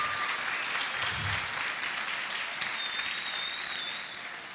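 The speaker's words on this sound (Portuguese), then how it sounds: "Dê uma forte salva de palmas para Jesus" A congregation at a church service breaks into loud, sustained applause, a dense steady clatter of many hands that holds evenly, then tapers slightly toward the end.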